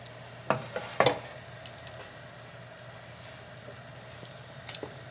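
Butter and capers sizzling in a pan with pasta during clam linguine cooking, a soft steady fry under a few sharp stirring clicks and utensil taps near the start, fairly quiet overall.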